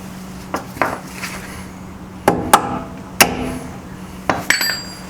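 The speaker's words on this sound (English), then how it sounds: "tap it a bit with the hammer" A hammer taps sharply on the steering arm of a Toyota Corolla at the ball joint, with the nut left on, in close metallic strikes: a few light knocks, then a run of louder, ringing hits.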